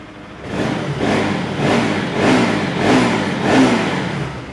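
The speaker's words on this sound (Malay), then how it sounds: "Okay, enjin semua senyap lagi" Modenas Pulsar 200 motorcycle engine with 59 mileage, running with a rhythmic revving that rises and falls about five times in steady mid-pitched surges, close and loud, with no voices.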